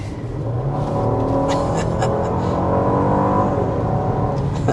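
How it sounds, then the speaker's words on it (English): A Genesis GV80 engine growls steadily while the SUV drives, a smooth, rising hum with a faint whir heard from inside the cabin. "It is really a smooth engine."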